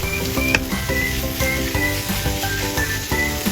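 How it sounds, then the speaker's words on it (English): Potato slices and chili Makai sizzling in a wok during a spicy stir-fry with pickled vegetables, a steady crackling hiss with rhythmic scraping stir strokes throughout. "toss in Makai for a quick stir-fry to marry their pungency with the fermented savor"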